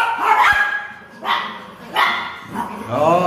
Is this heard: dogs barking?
yes